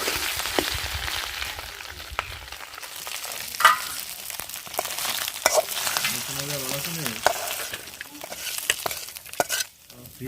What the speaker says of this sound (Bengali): মাছের মাথা ভাজা হয়ে গেছে, নামিয়ে নেব।